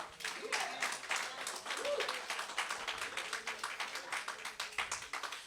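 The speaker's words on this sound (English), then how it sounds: "let's give God a hand clap of praise together today" A church congregation claps steadily together during an Easter sermon, a dense wash of hands with a faint voice and some background sound mixed in.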